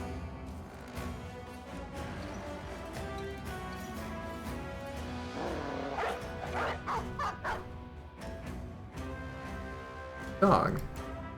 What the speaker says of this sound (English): Gonna release a dog around the side.